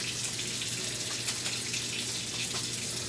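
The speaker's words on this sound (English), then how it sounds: "Now we're going to begin by me washing my hands, of course." Tap water runs steadily into a sink as hands are washed under it, a continuous close splashing hiss with no talk.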